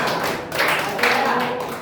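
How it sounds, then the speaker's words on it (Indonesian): Children clap together in a classroom during a science lesson, a dense burst of close, sharp claps that swells twice and fades, with a voice speaking over it. "Tepuk tangan untuk anak-anak"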